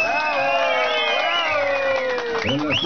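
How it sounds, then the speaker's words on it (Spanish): A crowd at a 70th birthday party cheers and claps loudly and steadily, with shouting voices mixed into the noise and a voice talking over it. "¡Fuerte las palmas!"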